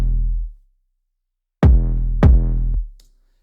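Two punchy trap hits, a sidechained kick drum locked with a booming 808 bass, land in quick succession after a brief decaying low tone and a pause, loud and alone with no talking.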